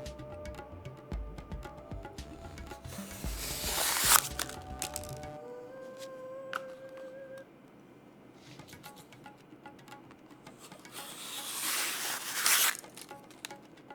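A knife sharpened on a leather strop slicing through material, two slow, rasping cutting strokes several seconds apart, each swelling to a brief crackling, tearing peak, with quiet handling noise between them.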